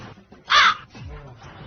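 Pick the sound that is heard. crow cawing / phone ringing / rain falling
crow cawing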